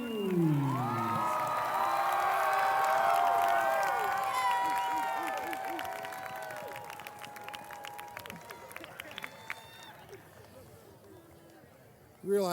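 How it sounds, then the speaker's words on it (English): A large audience at a 2018 Baldwin Whitehall commencement ceremony breaks into loud, sustained applause and cheering with whistles, swelling early and then slowly tapering off over several seconds. "that's the biggest applause I'd ever get"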